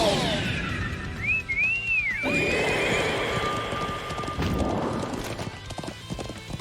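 A horse in the video game Trails of Cold Steel II gallops, rapid hooves clip-clopping steadily while it neighs loudly, with a rising whistle-like cry above the hoofbeats.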